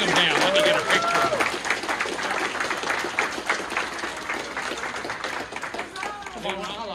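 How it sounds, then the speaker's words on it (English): Crowd applause for parish hall workers at a blessing and dedication of an expanded parish hall and new student center, steady clapping throughout with voices talking and cheering over it. "Let's give a round of applause to these guys who've worked so hard"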